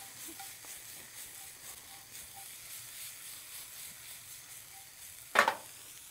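Shrimp sautéing in a pan over small, very hot burners, a faint soft sizzle and hiss that is steady throughout, broken near the end by one brief sharp clatter.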